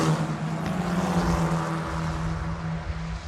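E4 Championship race cars at the Vallelunga circuit roar past in a loud, sustained engine drone, the tone holding steady with a slight shift as the pack goes by.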